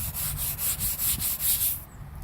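A clay bar rubs across rough paint on a Ford F350 truck in a close, steady series of gritty back-and-forth scrubbing strokes, then stops near the end; no talking.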